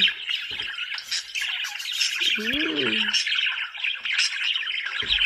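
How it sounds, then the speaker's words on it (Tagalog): Pet parakeet chirping with a bright, continuous twittering high up, dense and close throughout, with a brief harmonic squawk in the middle and a voice speaking underneath. "I'm raising the parakeet."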